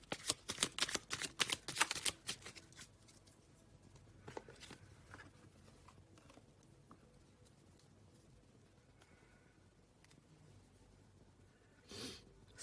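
Thoth tarot cards being shuffled by hand, a rapid burst of crisp riffling and slapping for about two seconds, then softer scattered card sounds and a brief rustle near the end, close and fairly quiet with no talk.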